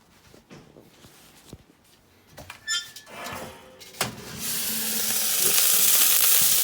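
A water pie topped with butter sizzles in a hot oven after the temperature is lowered from 400 to 375; a few clunks and soft knocks come first, then a loud, steady hiss and crackle swells up and holds.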